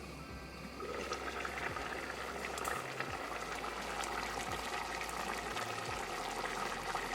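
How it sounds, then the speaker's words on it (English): Water comes to a boil in a covered pot for moong dal on a gas stove, a soft continuous bubbling and hiss with a low background hum that briefly cuts out now and then. "If the water started to boil,"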